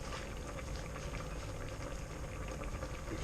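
A pot of potatoes boils hard on the stove, giving off a steady, close bubbling and rumbling. The sound is constant throughout, with no break.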